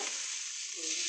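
Noodles sizzle steadily in a hot pan, with a continuous loud frying hiss and a brief scraping stir near the end.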